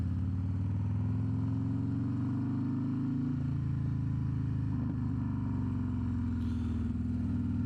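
A Harley-Davidson CVO Road Glide ST bagger motorcycle is ridden, its engine giving a steady deep droning rumble that rises gently in pitch, heard close and continuous throughout.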